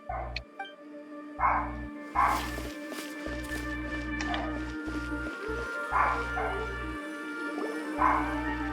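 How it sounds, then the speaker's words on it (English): A dog in the video game Genshin Impact barks and yips repeatedly, short bursts spread over several seconds above a steady musical background. "why Jazz is barking"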